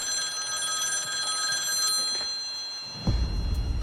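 A telephone bell rings continuously in a bright, steady trill, then a dull thump and rumble cuts in near the end.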